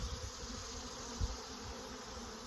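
Honey bees scooped into a measuring cup for a Varroa mite check, a faint, steady buzzing drone with a soft bump partway through.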